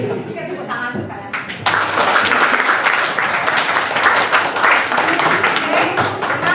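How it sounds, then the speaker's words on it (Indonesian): A class of students bursts into loud, sustained applause, dense clapping filling the room after a brief quieter moment with a voice. "tepuk tangan untuk kalian"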